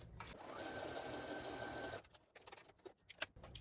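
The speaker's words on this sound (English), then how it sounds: "So I'm just going to sew this on right like this," A sewing machine runs steadily for about two seconds while stitching layer cake quilt fabric, a close, even mechanical whir that then stops, followed by quieter handling noises.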